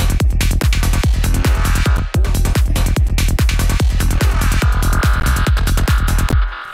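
Glitchy psychedelic bass synth patch built in Serum and Vital with compression, pulsing as rapid, loud, repeated percussive hits in a steady driving rhythm, with no talking.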